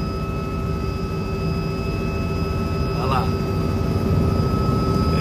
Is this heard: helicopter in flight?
yes